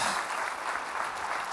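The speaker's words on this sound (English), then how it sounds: "Please, a warm round of applause." A conference forum audience claps for a panel of assistant secretaries, a short burst of steady, dense applause from a seated crowd heard at moderate level.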